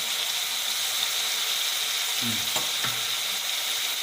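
Steady, soft sizzling of eggplant frying in oil for prawn kulambu, with a couple of faint clinks or scrapes partway through.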